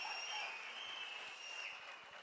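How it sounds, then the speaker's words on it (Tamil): Applause fills a hall at a TVK political party third-anniversary event, a steady patter of many hands clapping at moderate distance throughout, heard without speech. "ஒரு அரங்கம் நிறைந்த கைத்தட்டல் அண்ணனுக்கும் மாவட்ட செயலாளர்களும்"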